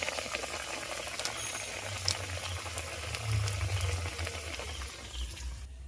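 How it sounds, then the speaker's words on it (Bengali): Whole egg coated in gram flour batter frying in hot oil, a steady bubbling sizzle that holds at a continuous moderate level throughout, close up with no voices. "এইভাবে করে আমি এটাকে এবারে তেলের মধ্যে চলে দেবো"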